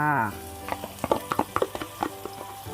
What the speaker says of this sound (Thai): ตั้งกระทะเสร็จแล้วใส่เนยลงไปค่ะ